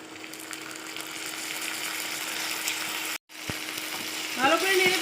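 Ginger garlic paste fries with reddened onions in hot oil, a continuous close sizzle broken by a short gap, with a brief voice near the end.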